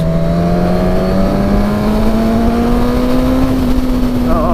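A 2019 Suzuki Katana's straight-four motorcycle engine revs loudly and close, its tone climbing slowly and evenly under load. Steady engine drone runs throughout, with no pauses or gear changes.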